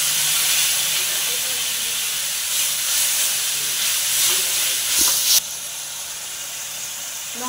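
Water poured into a hot pan of soybean and egg curry sets off a loud, broad steaming hiss that carries on for several seconds, then drops away abruptly to a softer simmer.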